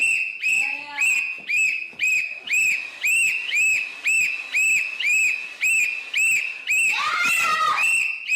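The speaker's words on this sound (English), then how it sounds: "I'm done making money for the day of you blowing a whistle in my ear" A woman blows a whistle right at the listener's ear, sounding a long series of loud, shrill blasts in steady rhythm of about one per second, ending in a longer warbling burst, with a little laughter and talk mixed in.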